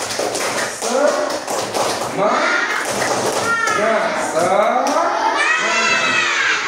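Students in a class perform the tepuk semangat clapping cheer, with rhythmic rapid hand claps mixed with children's voices chanting along, loud and lively.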